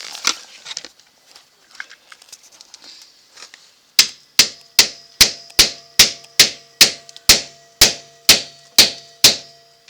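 A hammer striking a gold bar during home gold refining: after some scattered faint taps and rustling, about thirteen sharp metallic blows land in a steady, evenly spaced rhythm, each ringing briefly and decaying, loud and close.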